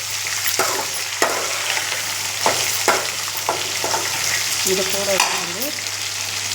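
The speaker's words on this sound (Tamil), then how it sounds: "இந்த மாதிரி வெங்காயம்லாம் நல்லா வதங்கிட்டுக்கோங்க." Onions and tomatoes sauté in a pan for a ginger lentil kuzhambu, a steady sizzle broken by several sharp spatula scrapes, with a brief spoken phrase near the end.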